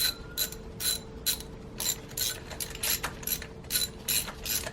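A ratchet clicks in quick bursts while tightening spark plugs on a Saab 9-3 Turbo X V6, close-up and clear with no talking.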